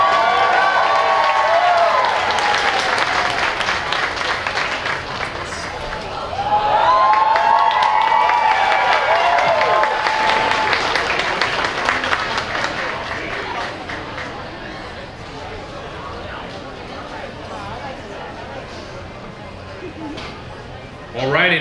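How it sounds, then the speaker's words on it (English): Audience applause with scattered cheering at an adult cosplay contest awards announcement, a dense crowd clapping that swells midway and then slowly tapers, with voices mixed into the din. "Round of applause for number 23"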